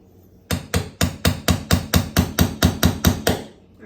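Thirteen evenly spaced hammer blows drive a nail into floor trim, each strike sharp and close with a short ringing decay, falling at a steady rhythm of about three per second.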